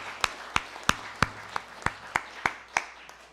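Sparse, slow clapping from a small church congregation during a Sunday worship service, about ten distinct hand claps spaced evenly and fairly close, with quiet room tone between them.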